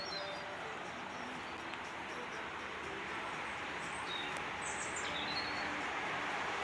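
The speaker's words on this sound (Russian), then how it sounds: "Птички поют." Small birds chirp faintly in the distance over a steady, noisy outdoor background at a rainy countryside dacha garden, with scattered brief tweets rather than continuous song.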